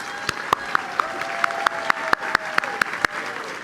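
At a city State of the City address in Deerfield Beach, sharp, evenly spaced claps ring out close by in a steady rhythm of about a dozen beats, over a faint murmur of voices.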